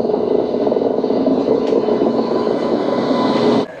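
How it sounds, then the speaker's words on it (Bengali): A WAG 9 electric locomotive approaches with its lights on at night past the Panskura outer cabin, a steady, loud rail rumble and whir holding for several seconds before cutting off abruptly. "লাইট জ্বালিয়ে চলে আসছে বোধহয় একটা WAG 9 লোকোমোটিভ"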